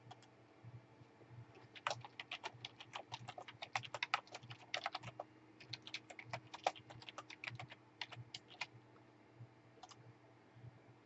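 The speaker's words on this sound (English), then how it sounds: "I just recorded me typing a bunch of stuff in there" Quiet clicking of keys on a computer keyboard, typed in irregular bursts with short pauses between runs of keystrokes, close and faint over a low steady hum.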